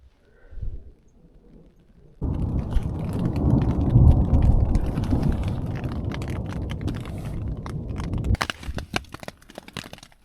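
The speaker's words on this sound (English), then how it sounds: "That thunder is amazing." A steady roar of heavy rain begins abruptly after a quiet start, with a sharp thunder crack partway through, in the Pecos Wilderness.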